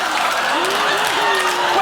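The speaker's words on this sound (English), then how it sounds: "We're clapping." A talk show studio audience applauds in a steady, dense wash of clapping throughout, with a voice speaking over it.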